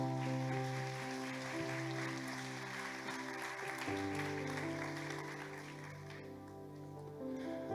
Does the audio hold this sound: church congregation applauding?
yes